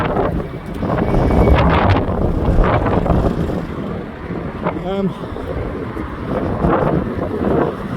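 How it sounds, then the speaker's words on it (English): Strong wind buffeting a microphone outdoors, a loud continuous low rumble with gusting surges throughout, a brief squeaky tone midway, and no clear speech. "I'm sorry about this wind. If you can't hear me, it's horrendous, this wind."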